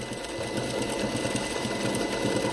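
Sewing machine stitching fabric while securing a seam with a backstitch, a steady, loud continuous mechanical whir and rapid needle chatter running unbroken throughout.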